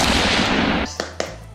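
A spray bottle sprays a mix of water and a little oil onto hair, giving a close, loud hiss lasting under a second, followed by a couple of sharp clicks from the trigger.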